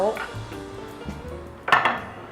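Penne tossed in a pan with red curry cream sauce and smoked salmon clinks and scrapes against the metal, with soft stirring and a sharper clatter near the end.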